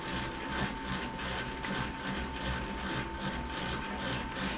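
A Famag mixer kneading pizza dough runs with a steady, quiet mechanical whir and a faint rhythmic ratcheting pulse from the gears, heard alone and close.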